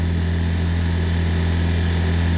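An engine on a stolen scooter idles high with a steady, continuous hum and even vibration throughout, close by and alone, with no voices.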